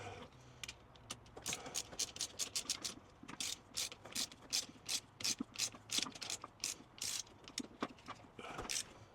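Ratchet wrench tightening the power connector fuse terminals for a mini AC and portable battery in a truck camper, giving a close run of quick, evenly spaced clicking bursts, sounding alone.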